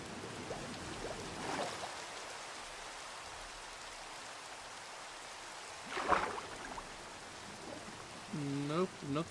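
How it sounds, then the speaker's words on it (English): Rain in the Minecraft video game, a soft, steady hiss of falling water at low volume, broken by a few brief in-game noises and a short tonal sound near the end. "And it's raining."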